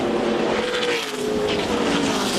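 NASCAR race cars roar past at speed on a super speedway as a heavy crash unfolds in the final corner, with a loud, continuous engine drone and faint tire squeal, and no talk.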